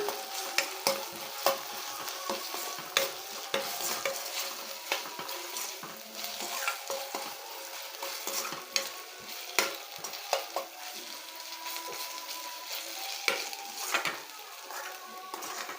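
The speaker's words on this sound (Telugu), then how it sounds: "చక్కగా అల్లం చిన్నులపాయ పేస్ట్ని కూడా బాగా వేయించుకోవాలండి." Ginger garlic paste frying and being stirred in a pan for a prawn curry, with a steady close sizzle and repeated scraping strokes of a spoon against the metal throughout, no talk.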